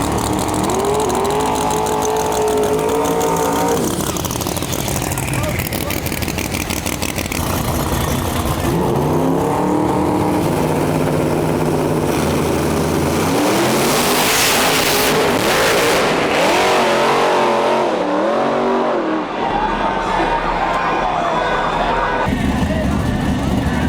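A race car on a race track roars loud and close, its engine revving up and down in repeated rising and falling sweeps as it shifts and accelerates, with voices faintly mixed underneath.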